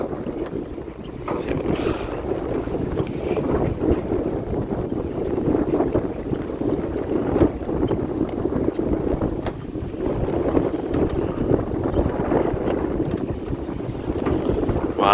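Wind buffets and rumbles steadily around a fishing boat on open sea, with gusty microphone noise throughout and no voices.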